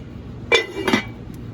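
Two quick metallic clanks as the lid of a Pit Barrel Cooker is set down and closed over oxtail braising inside, close and fairly loud, with a faint ring after each.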